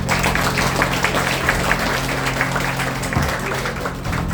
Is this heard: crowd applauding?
yes